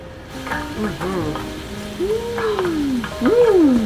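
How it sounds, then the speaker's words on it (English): Swiss chard sautéing in garlic and oil in a kitchen pan, a steady close sizzle and crackle with spoon stirring, while a voice or tonal sounds rise and fall over it. "We're just gonna saute our Swiss chard in a little garlic and oil."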